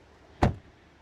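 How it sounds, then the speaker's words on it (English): A BYD Seal 06 touring car door shuts once with a short, solid thud, close and fairly loud, alone against quiet background. "Very solid door closing sound."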